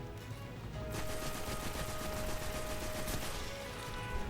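Sustained gunfire from a fusion rifle in the video game Destiny, a dense, continuous burst of shots lasting several seconds at steady loudness with a faint tone running through it, no voices.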